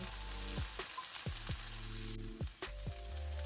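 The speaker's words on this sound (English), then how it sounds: "we're just going to saute it until the asparagus turns a deeper green" Asparagus sautés in a pan for vegetable fried rice, a soft, steady sizzle broken by several sharp scraping or tapping strokes from stirring; no speech is heard.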